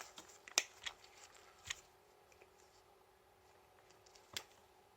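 Scissors or cutters snip through the USB cable of an Xbox 360 AirFlo controller, with a few sharp close snips and faint handling noise in between.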